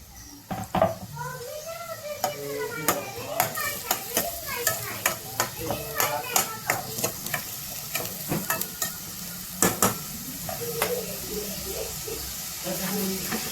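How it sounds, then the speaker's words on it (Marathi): Chopped onion frying and being stirred in hot oil for a spicy cowpea curry, with steady sizzling under repeated spoon scrapes and clinks against the pan, close and moderately loud throughout. "व्यवस्थित परतून घ्यायचं आहे हे तेलामध्ये"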